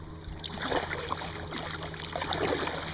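Water waves washing and churning in a steady, close wash with small splashes and trickles throughout, with no talking.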